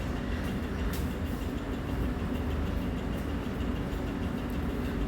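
Train at Chennai Central railway station, a steady low rumble and hum of rail cars at the platform, continuous and fairly loud with faint clicks, no talking.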